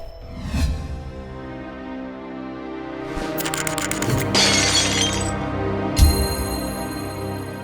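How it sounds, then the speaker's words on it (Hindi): A cherished heirloom handed down from a grandfather shatters, glass breaking with a bright crash followed by scattered tinkling fragments, set against a busy background of music and effects. "अरे रे, मेरे दादाजी की दी हुई प्यारी चीज टूट गई।"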